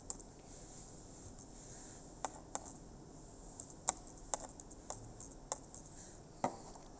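Spreadsheet values being typed on a computer keyboard: sparse, faint key clicks at irregular intervals over a low, quiet background hum.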